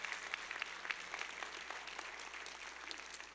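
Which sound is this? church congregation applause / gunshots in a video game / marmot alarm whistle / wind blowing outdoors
church congregation applause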